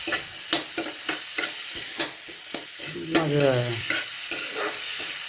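Egg curry with chickpeas and mashed potato frying in hot oil as a spoon stirs slowly through the pan, a rhythmic series of close scrapes over a steady sizzle, with a brief murmured word.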